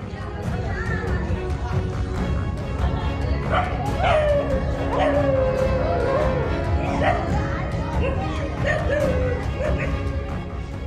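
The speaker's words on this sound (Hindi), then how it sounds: "कुछ कुत्ते मगरमच्छ को देखकर भौंक रहे थे" Several dogs on a road bark, yip and whimper excitedly at a giant crocodile, a loud, close cluster of overlapping barks and whiny yelps with voices of onlookers talking underneath.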